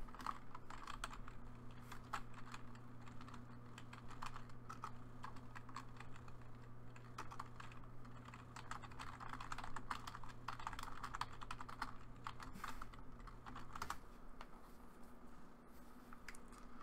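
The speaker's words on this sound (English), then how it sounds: "Just doing some typing here real quick, trying to coordinate some things." Steady typing on a computer keyboard, quiet continuous key clicks over a low electrical hum, with no voices.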